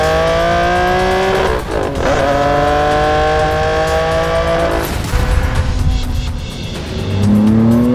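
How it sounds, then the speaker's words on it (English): A Ferrari Enzo drives hard on the racetrack at Concours Club, its loud engine close by, climbing in pitch through several gear changes with brief dips between shifts. "today we are going to experience the Enzo on this spectacular racetrack at Concours Club"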